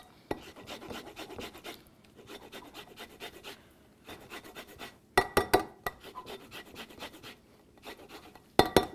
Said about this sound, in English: And now we want to add some lemon zest.